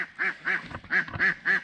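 Ducks on a mountain farm quacking close by in a quick run of five or six loud nasal calls with short gaps between them.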